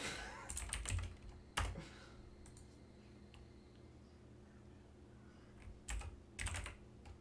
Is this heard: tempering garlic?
no